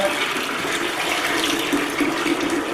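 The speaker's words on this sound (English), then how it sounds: "over here is where you dump the dirty water" Dirty water pouring out of a floor cleaner's tank used on a martial arts puzzle mat, a steady close gush and splash that runs unbroken throughout.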